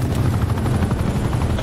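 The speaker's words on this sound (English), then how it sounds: "Enemy attack chopper above." Attack helicopter in Call of Duty: Black Ops 4 passing overhead, a loud, continuous rotor thump and whine filling the short stretch without pause.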